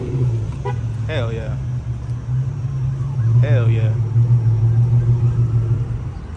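An Infiniti Q50 fitted with test pipes gives a steady, deep exhaust rumble at idle that holds throughout, with brief voice sounds over it.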